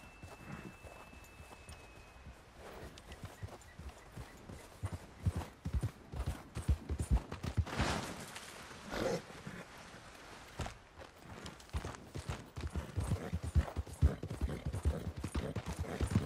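A horse's hooves clip-clop on ice while the horse is out ice skating, making an uneven run of close, sharp knocks that grows denser and louder toward the end.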